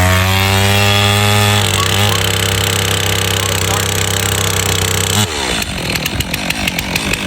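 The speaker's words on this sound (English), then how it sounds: "Once it starts that real high, where it's hitting the rev limiter idle like that" A Stihl MS 362 chainsaw engine roars at a loud, high steady idle bouncing off the rev limiter, then drops into a choppier, sputtering rhythm near the end.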